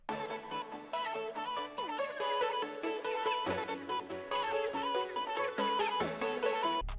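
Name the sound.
full hyperpop glitchcore beat, all parts together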